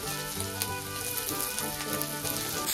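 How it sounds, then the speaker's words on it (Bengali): Cumin paste sizzles in a frying pan after ginger, garlic and green chilli paste has been fried, giving a close, steady crackling hiss with a faint continuous hum beneath. "এবার দিয়ে দেবো জিরে বাটা"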